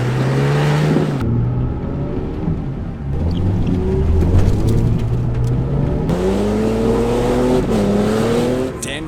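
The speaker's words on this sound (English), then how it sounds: "Dan was quickly down to his diffs in this deep and soft mud" A 4WD engine revs hard and labours through deep, soft mud, the pitch climbing and falling in repeated surges with brief drops, loud and close throughout.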